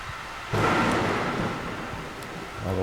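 Thunder from a lightning storm in the video game Darkwood breaks in suddenly as a loud, broad rumble, then rolls on and slowly fades under steady rain.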